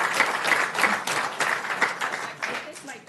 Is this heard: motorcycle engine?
no